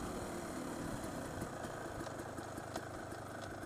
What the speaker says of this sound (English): plus the engine just I don't know. Sounds like it's misfiring all the time.